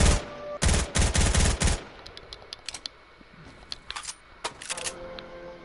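Gunfire in a video game: a loud burst of rapid automatic shots up front, then scattered sharper single shots and clicks continuing more quietly afterward.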